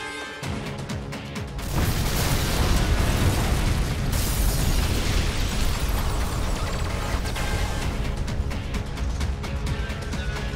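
A bomb explodes in a Turkish TV drama scene, bursting in after a quiet moment into a loud, sustained roaring blast that rumbles on for several seconds.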